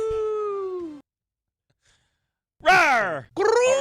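A man imitates a cat with a drawn-out meow-like vocal growl, two loud voiced bursts following a stretch of speech and a quiet pause.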